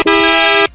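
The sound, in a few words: car horn sample played on a Roland SP-404 MK2 sampler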